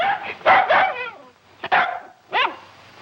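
A dog barks in the Western film Days of Jesse James, giving three short, sharp, yappy bursts spaced apart, fairly close and clear with quiet gaps between them.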